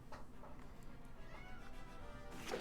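A cat meowing outside a door, a few faint, muffled meows repeating over a quiet indoor background, the last one slightly louder.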